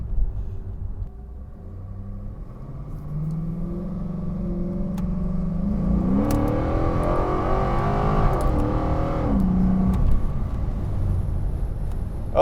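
A nitrous-injected Cadillac XLR with a Northstar engine accelerates hard, its loud rumbling exhaust rising steadily in pitch and swelling to a roaring peak before settling, with no talk over it.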